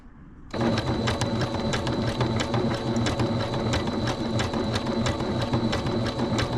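A sewing machine starts up and stitches a zigzag seam on a two-piece pant suit, giving a loud, close, rapid mechanical clatter with an even repeating rhythm. It runs without pause and no voices are heard.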